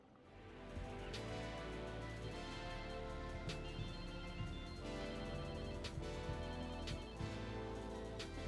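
A phone ringing in the Watch Dogs 2 video game, a repeated electronic ringtone melody with regular bright pulses, steady and fairly loud after a short quiet start, no talk.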